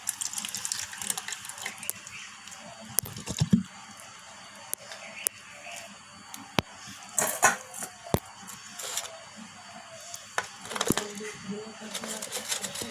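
Cooked prawns prepared in a green coconut are tipped out of a pan, with sharp clacks, scrapes and wet sliding sounds coming in uneven bursts up close.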